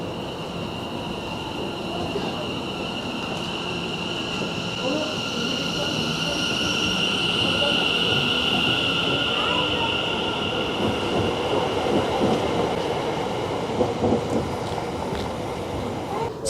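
An onboard ride in a London train carriage heading toward Meridian Water, with a steady rumbling roll, wheels squealing and a high tonal whine, loud and close throughout, with faint clicks near the end.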